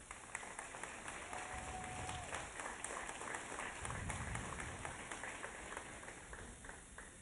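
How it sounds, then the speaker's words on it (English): Quiet, distant applause from a small crowd at an awards banquet, a soft steady patter of clapping that fades slightly toward the end. "Give them all a round of applause"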